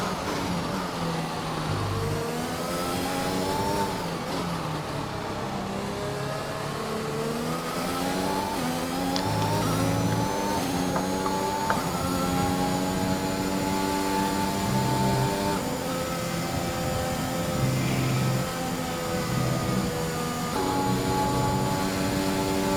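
Race car engines in a British Grand Prix racing video game, a loud continuous high-pitched engine whine rising and falling through gear changes and revs, with no talk.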